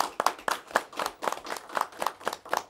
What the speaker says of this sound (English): I'd like to have a round of applause for these years of service.